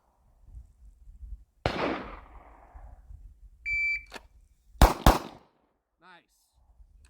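During a pistol shooting drill, a single sharp gunshot rings out, followed after a timer beep by a quick pair of close, loud shots, with faint background rumble between.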